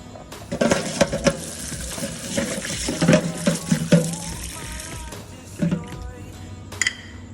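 Tap water runs and splashes into a container while something is washed, coming in uneven gushes with clatters of handling, fairly close and with no talking.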